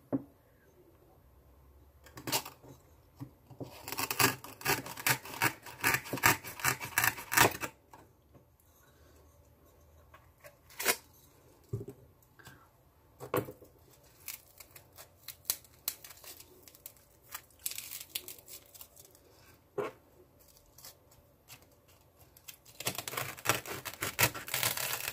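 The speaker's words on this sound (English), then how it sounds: "Trim this off a bit." Scissors snip and crunch through stems of a faux plant arrangement in short bursts of crisp cuts, close and fairly loud against quiet pauses, with rustling of artificial foliage in between.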